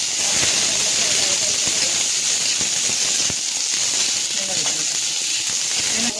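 Sliced onion sizzles loudly in a hot pan with garlic and green chillies, a continuous close hiss and crackle filling the whole stretch.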